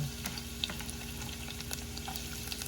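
Garlic frying in a pan for chicken soup, a soft steady sizzle with scattered small pops and crackles, close and fairly quiet with no talking.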